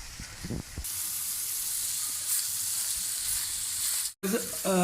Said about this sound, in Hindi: इसके साथ भी हम इसे तकरीबन 2 मिनट के लिए भून लेंगे